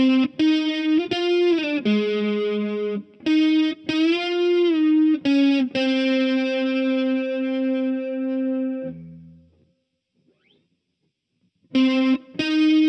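Distorted electric guitar playing the opening solo phrase of a song, with bends and sustained notes, loud and close, then a brief low note, a pause of near silence, and a couple of picked notes.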